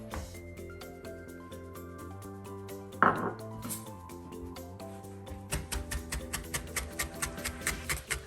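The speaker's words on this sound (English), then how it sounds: "We have fresh herbs, which we're going to chop." Fresh herbs being chopped for garlic butter: a knife taps out a quick, steady run of cuts near the end, after a single louder clatter, with a faint musical background underneath.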